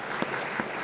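Short burst of steady audience applause at a mayor's back-to-school press conference, moderately faint and alone.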